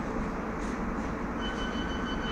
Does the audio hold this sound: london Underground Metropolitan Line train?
yes